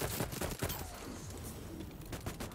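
Shotgun firing in the video game Voidtrain, a dense, noisy barrage of blasts and impacts crowding together, loud and close, with game effects washing between shots.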